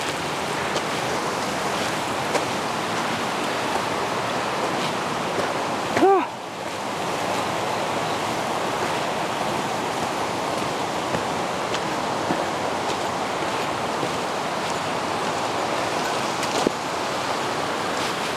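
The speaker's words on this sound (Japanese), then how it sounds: "左にすごい川、右に滝、" Constant rushing water in Osugidani gorge, a broad steady roar of a waterfall and fast river, with a brief voice cutting through once near the middle.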